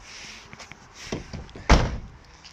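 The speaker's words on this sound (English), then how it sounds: "Close that door." Door of a VW Caddy van swung shut during reassembly, landing as a single solid thunk near the end after some faint shuffling and handling movement, with no talking.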